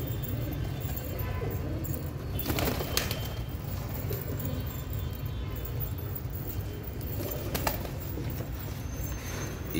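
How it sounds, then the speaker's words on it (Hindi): Pigeons coo softly amid a dense outdoor hum in Hyderabad, with occasional wing flutters and bird calls. Nobody speaks. "भाई ये कबूतर फॉर सेल है हैदराबाद में"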